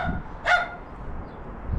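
A single dog bark rings out at mid-distance in an indoor or garage setting, short and sharp, with quiet background noise before and after.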